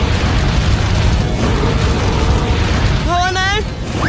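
A stopper bursts out under pressure in a video game: a loud, sustained broadband blast roars throughout, and a brief rising whistle-like tone comes near the end.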